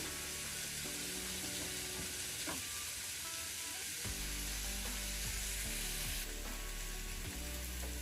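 Paneer bhurji fries in a pan with a steady, even sizzle throughout, plus a few soft scraping stirs and a low background hum.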